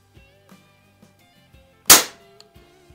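A single sharp shot from a Crosman model 1400 multi-pump .22 caliber air rifle, one loud close crack with a quick decay amid otherwise quiet surroundings.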